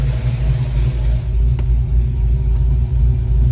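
A Ford Mustang V8 idles after a valve spring and roller rocker install, giving a deep, steady, close rumble with a slight uneven chop in its low throb and no voices.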